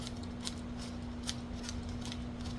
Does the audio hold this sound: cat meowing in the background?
no